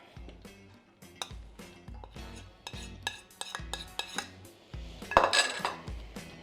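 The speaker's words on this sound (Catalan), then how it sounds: "Ara barregem els cacauetes amb la xocolata" Peanuts stirred into melted chocolate, heard as a run of close clinks and scrapes of a utensil against a bowl in an uneven rhythm, briefly louder near the end.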